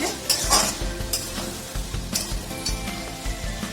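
Egg curry simmering with garam masala in a pan is stirred with a spoon, giving repeated scraping strokes and soft clinks against the pan over a low sizzle, close and without any talk.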